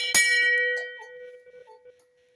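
The largest and tallest of four hand bells, tuned to B4, struck once, then ringing on close and loud with a bright metallic strike and a clear sustained tone that decays over about two seconds.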